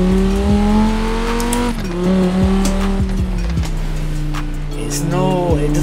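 A Quadra V-Tech car from Cyberpunk 2077, driven in Forza Horizon 4 with a steering wheel and paddle shifter, hums a steady engine tone that shifts pitch with quick gear changes, with bursts of tire squeal and someone talking over it.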